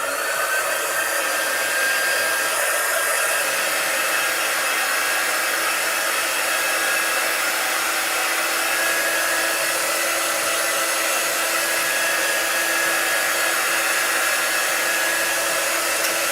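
A hair dryer blows on paper craft snowflakes with a loud, steady, unbroken whooshing hum from start to finish.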